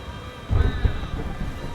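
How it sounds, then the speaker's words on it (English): A lightning strike in the video game Alan Wake Remastered brings a short, deep rumble of thunder that swells over steady rain, loud and close for about a second before easing back into the downpour. "Did we just see lightning? I think we just saw a lightning strike."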